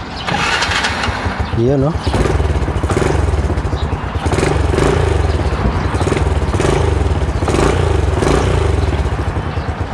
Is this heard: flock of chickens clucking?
no